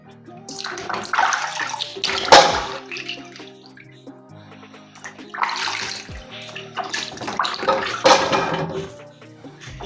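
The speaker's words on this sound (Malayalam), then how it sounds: "ഈ മാങ്ങ ഇനി നമുക്ക് നല്ലവണ്ണം കഴുകി വൃത്തിയാക്കി" Raw kilichundan mangoes washed by hand under running tap water, rushing water in two loud surges with splashing and handling clatter, close, no speech.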